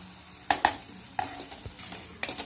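A spoon scrapes and clinks in a pan while Schezwan chicken is stirred together, giving a few sharp metallic taps over a soft sizzle, close and unhurried, with no talking.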